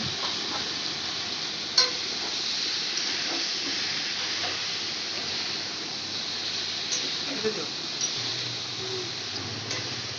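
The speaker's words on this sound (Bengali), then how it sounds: "এচোরটা এইভাবে সুন্দর করে আলুর মতনই পুরোটা ভেজে নেব" Raw jackfruit frying in oil in a wok, a loud, steady sizzle close by with occasional stirring scrapes and light clicks running throughout.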